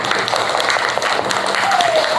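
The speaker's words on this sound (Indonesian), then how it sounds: "Tepuk tangan untuk kita semua." A classroom of students claps together, a brisk burst of fairly loud, close applause with scattered individual claps and faint voices mixed in.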